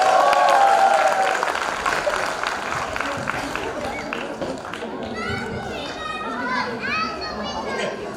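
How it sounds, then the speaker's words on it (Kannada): An audience at an Ugadi celebration musical quiz claps, a dense patter of applause mixed with children's voices and crowd chatter, fairly close and sustained. "ಒಂದ್ಸಲ ಜೋರಾಗಿ ಚಪ್ಪಾಳೆ ಬರಲಿ."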